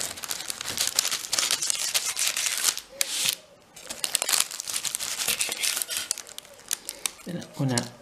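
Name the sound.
cutting chocolate banana puff pastry crown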